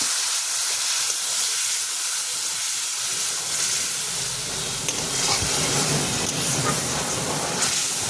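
Mustard paste sizzling in a hot pan while cooking kakrol, a loud steady hiss and crackle of frying that holds throughout, close by, with faint stirring underneath.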